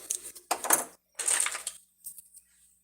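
Miniature plastic Barbie plates being handled, giving light clattering clinks in three or four short bursts separated by pauses, close and fairly quiet.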